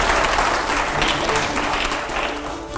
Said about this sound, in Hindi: पहले जोरदार तालियां यहां पर दिखाइए